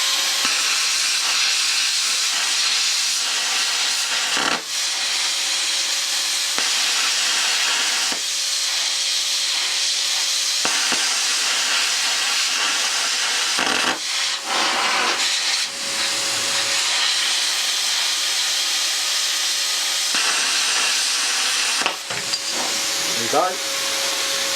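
A Chinese CUT50/CUT60 60-amp plasma cutter cuts metal with a loud, continuous hissing roar broken by several short stops and restarts, with a faint tonal whine running through parts of the cut.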